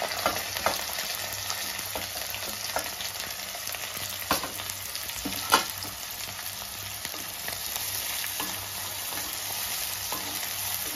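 Thinly sliced onions, curry leaves and green chillies frying in oil with whole garam masala for chicken sherva, a steady close sizzle with scattered crackles and a few sharper pops as the pan is stirred, no voices.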